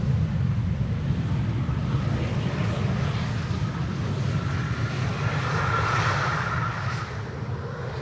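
Saudia jet airliner flying past on arrival to runway 18R at Schiphol, a steady low engine rumble with airy rushing that swells slightly toward the end, moderately distant and no talk.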